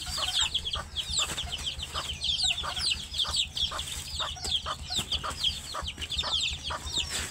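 Native country hens cluck continuously in a flock, overlapping short calls and squawks close by with a steady rhythm, alongside a low background hum.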